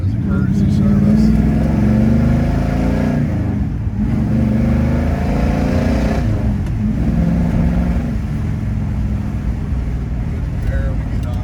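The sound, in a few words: 1966 Pontiac GTO Tri Power four speed accelerating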